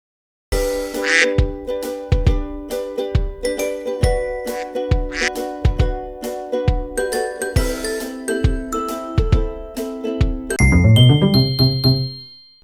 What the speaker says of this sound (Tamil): வாத்து கத்தும்.